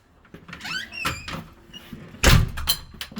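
A door being closed in a video game: scattered creaks and scrapes followed by a heavier thud near the middle, close and moderately loud, with no talking.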